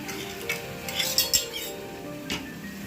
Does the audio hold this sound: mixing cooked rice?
yes